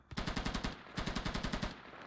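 A PK machine gun firing in a video game, two rapid bursts of about eight shots each separated by a short pause, loud and close, no talking.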